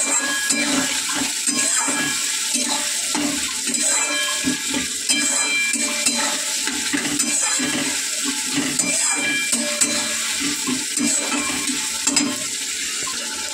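Tomatoes and onions fried with salt in a pan, a continuous close-up sizzle with repeated scraping of stirring in an uneven rhythm, with no speech over it.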